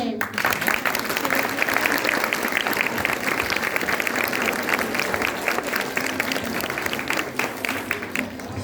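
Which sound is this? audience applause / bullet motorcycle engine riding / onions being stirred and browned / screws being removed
audience applause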